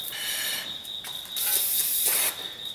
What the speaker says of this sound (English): just take and spray it down with some brake cleaner